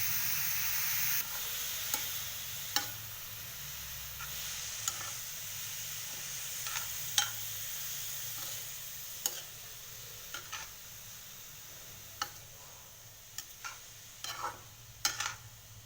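Carrots with sugar fry in ghee under a steady soft sizzle, with a spoon clicking against the pan at irregular intervals as it stirs.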